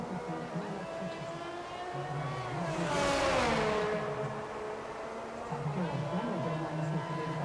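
A Ferrari race car engine in a Japan-round racing game at the first corner, whining through shifting pitches and swelling to a loud peak as it passes close, then easing off with gear changes, with a commentator talking over it.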